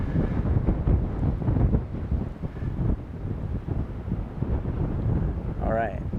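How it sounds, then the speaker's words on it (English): Strong wind buffeting the microphone on a golf course fairway near the clubhouse: a loud, continuous gusting roar that keeps on through the whole stretch, with someone talking over it. "A little windy, sorry about that, but a great view down the old fairway."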